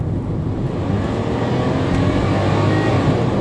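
A Kia Picanto's small engine drones steadily, a low, even hum held at one level under cabin noise without a clear rise in revs.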